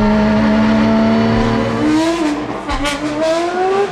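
Pagani Huayra R V12 race car at Spa-Francorchamps, a loud, close engine holding a steady high note, then climbing and shifting as it revs, with tyre and road noise beneath and no talk.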